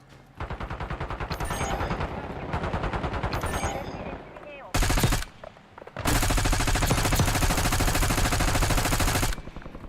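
Video game gunfire rattles out in loud, long bursts of rapid automatic shots, broken by a short gap and a few brief single cracks before a final sustained volley.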